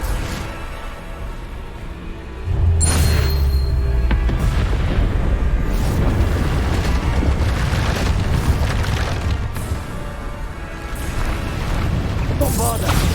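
Bombarda explosion spells burst repeatedly during a Hogwarts Legacy duel, loud booming blasts landing in quick succession over continuous combat noise, with a voice talking throughout.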